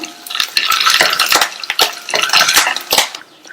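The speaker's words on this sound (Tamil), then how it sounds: "இந்த வேர்க்கடலைய ஒரு 15 செகண்ட்ஸ் போல இந்த எண்ணெயிலேயே வறுத்துக்கங்க" Peanuts and curry leaves roast in oil as a spoon stirs them round the pan, giving close, busy scraping and clattering over a light frying sizzle.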